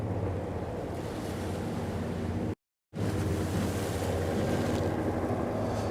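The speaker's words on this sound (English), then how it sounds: "Wow, waves are getting fierce." Fierce waves churn on the water near Williamsburg, Brooklyn, a loud, continuous wash with heavy wind buffeting the microphone. The sound cuts out briefly midway.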